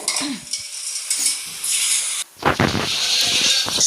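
Bhaji greens dropped into a hot pan and stirred, a steady frying hiss broken by utensil clatter and scraping that grows busier in the second half, close and fairly loud.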